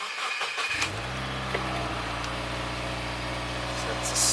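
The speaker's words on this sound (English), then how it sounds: "So it's a start up, cold start." A 2018 Subaru WRX with a Stage 1 COBB tune cold starts: a brief starter crank, then the engine catches and settles into a loud, steady, rumbling high idle, close to the car.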